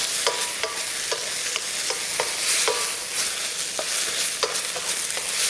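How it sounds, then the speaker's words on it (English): Broccoli beef with ginger and spring onion stir-fried in a hot wok, a loud steady sizzle with regular scraping strokes of the spatula roughly every half second as the food is kept moving. "You can see here that I'm constantly moving my stir fry around."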